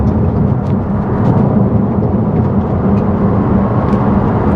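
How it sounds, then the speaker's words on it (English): An MG Windsor EV accelerates at full throttle in sports mode, heard from inside as a steady, loud roar of road and wind noise with no voices. "full throttle in the sports mode"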